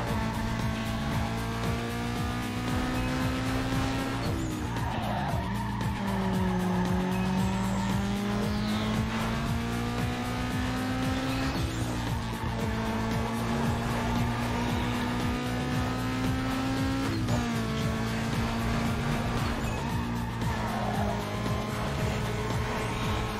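A Honda S2000 in Need for Speed Underground 2 holds a steady engine drone under near-constant tire squeal, with skids rising and falling as the car slides through several turns.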